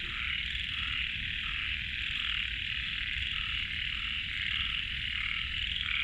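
A constant, thick chorus of croaking frogs fills the whole stretch, even and loud with no speech, in a rain-soaked garden forest in Nonthaburi, Thailand.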